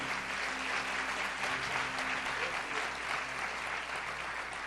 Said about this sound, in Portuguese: Dê para Jesus uma forte salva de palmas